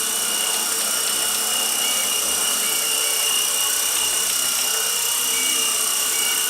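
A used Blade 120 S2 RTF four-channel RC helicopter in flight, its small rotor and motor giving a steady, loud, high-pitched whine that holds constant without pause.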